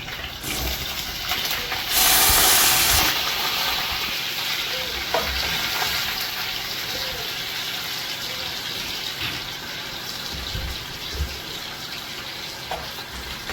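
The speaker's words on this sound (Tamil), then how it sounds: "வெங்காயம் வதங்கும்" Sliced onions sauté in a pan with urad dal for a prawn curry with brinjal, giving a steady, close sizzle with occasional stirring clicks and a louder hissing burst early on; no talking.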